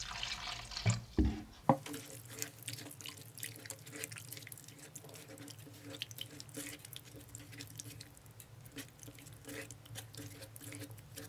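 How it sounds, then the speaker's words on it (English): Water pours and trickles steadily into a thick groundnut sauce after a couple of sharp knocks at the start, a continuous liquid splashing close by. "I'm going to add some water."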